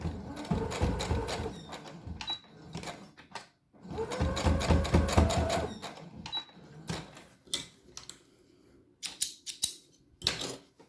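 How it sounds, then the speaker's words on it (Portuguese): A sewing machine runs in bursts to stitch a safety seam on a fabric brush-roll holder, with loud rapid needle clatter, short pauses and a few lighter clicks near the end. "E passa uma costura de segurança."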